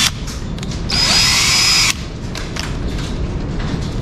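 A power drill spins up to turn a fabricated accelerator pedal fitting for an LS swap, one steady high whine of about a second standing loud over a garage background hum.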